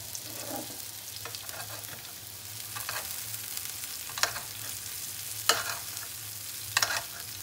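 Steak frying in a pan over a burner turned to eleven, a steady close sizzle with soft bubbling and occasional sharper crackles and pops throughout.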